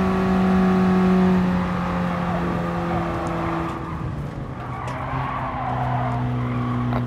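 A 2008 Fiat 500 slides through a corner in Gran Turismo Sport, its steady engine drone joined by long tire squeal and skidding that holds for several seconds.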